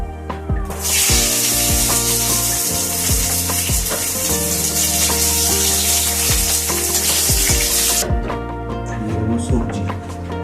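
Bay leaf and black cumin seeds sizzle loudly in hot oil, a dense continuous frying hiss that swells from about one to eight seconds with scattered crackles, then eases; background music plays underneath.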